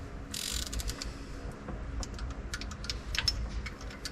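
A socket wrench ratchets in short bursts of quick, close clicks while tightening on a '78 Chevy K5 Blazer's small-block 350 engine, with a brief hissy noise near the start.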